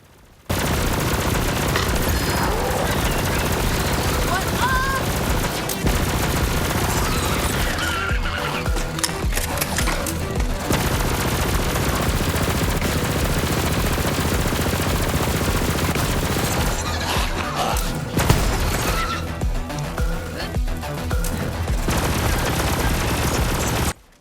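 Rapid gunfire from the Embers Purge, a legendary incendiary SMG in Borderlands 3, in sustained bursts with brief pauses, loud and dense, mixed with game effects and no talk.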